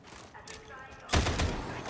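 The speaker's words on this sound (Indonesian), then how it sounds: "Tembak Gatling gun besar." A large Gatling gun fires in Warhammer 40,000: Darktide, opening up as a dense, loud, sustained burst of rapid gunfire after a brief quieter stretch of background game noise.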